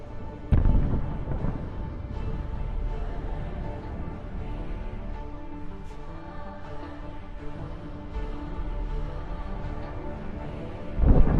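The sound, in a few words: tank firing from long distance, shell hits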